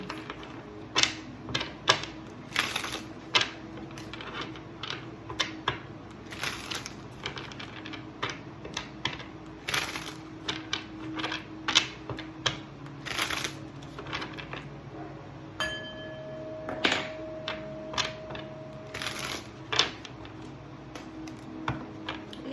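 Tarot cards riffle and snap in repeated shuffling bursts, crisp and close, with brief pauses between rounds and no talking.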